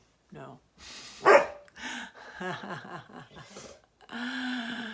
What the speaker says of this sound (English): you got to start barking at me